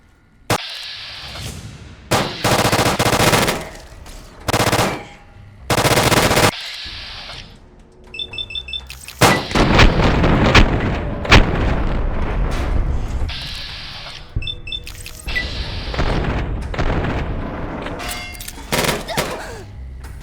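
The satellite-linked energy weapon in the video game Fallout New Vegas firing: loud, close bursts of heavy blasts and rumbling impacts, with rapid staccato stretches and sustained explosive roars, heard alone.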